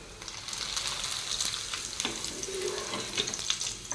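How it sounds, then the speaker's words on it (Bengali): Papad fries in oil, making a steady, moderately loud frying hiss with light crackling and occasional soft stirring or clattering sounds. "লাস্টে পাঁপড়টা ভেজে নিলাম।"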